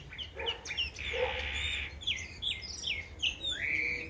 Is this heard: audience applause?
no